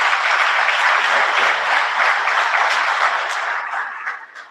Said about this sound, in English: I think we must clap for all the speakers